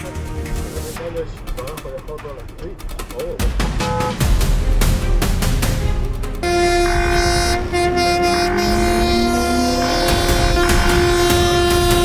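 A train rumbles past a level crossing, then its horn blares in long sustained tones, loud and near, with mixed traffic noise before it arrives.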